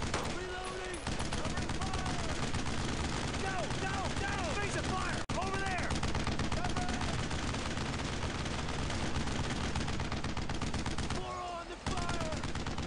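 Sustained, dense gunfire from rifles and machine guns in a Brothers in Arms: Road to Hill 30 World War II battle, with rapid bursts and single shots overlapping almost continuously, loud and close, and a voice talking intermittently underneath.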